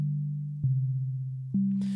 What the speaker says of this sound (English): I'm starting out now with just a sine wave here.